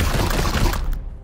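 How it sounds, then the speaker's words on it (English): Rapid burst of weapon fire in Chaos Gate: Daemonhunters, a loud dense fusillade of overlapping shots that cuts off abruptly after about a second. "Opening fire."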